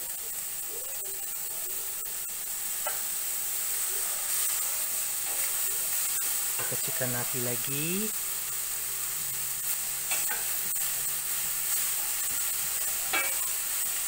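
Chicken and broccoli stir-frying in a pan give a steady sizzling hiss with brief stirring scrapes, while a person talks over the cooking.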